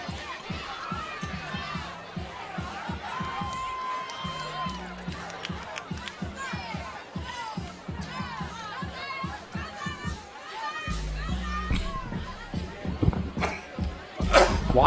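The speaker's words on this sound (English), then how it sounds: "and there is the crowd." Crowd noise fills a high school basketball playoff gym in an NJSIAA tournament quarterfinal between Washington Township and Atlantic City, with steady murmur, chatter and shuffling that builds louder toward the end, and a commentator's voice talking over it.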